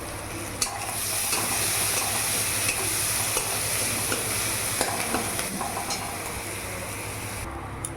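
Sliced onions fry with a pinch of salt and turmeric in a pan, giving a loud, constant close-up sizzle mixed with stirring scrapes and occasional spatula knocks, no talking.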